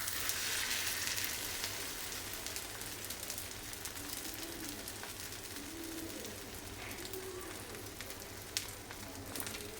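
Egg sizzling in a pan for a tomato omelette, with raw onions in the mix: a steady close frying hiss throughout, with faint bird calls in the background.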